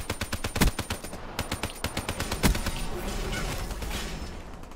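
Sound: gunfire in a video game

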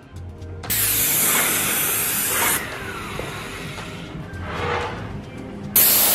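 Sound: spraying final coat of paint on timber shutters

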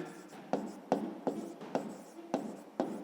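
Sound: writing on paper

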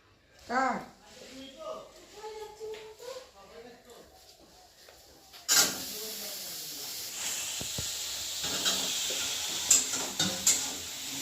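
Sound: two curries cooking on the stove

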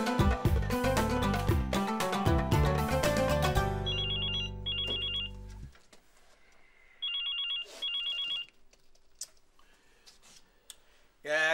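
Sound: mobile phone ringing

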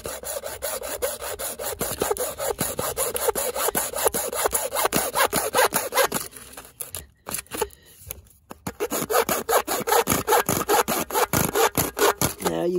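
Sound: hand sawing through material at an angle

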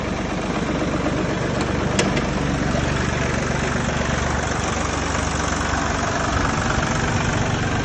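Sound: Iseki TU 245 tractor engine idling after starting

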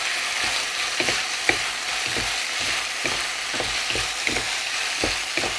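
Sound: stir-frying stink beans with minced pork

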